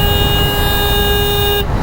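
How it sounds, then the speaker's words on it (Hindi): A loud, steady vehicle horn blares continuously on a road, heard near a Duke 250 motorcycle amid traffic rumble, cutting off abruptly near the end. "अरे तेरे को हॉर्न नहीं सुनाई दे रहा।"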